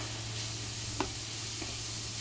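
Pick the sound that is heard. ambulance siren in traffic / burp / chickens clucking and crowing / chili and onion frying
chili and onion frying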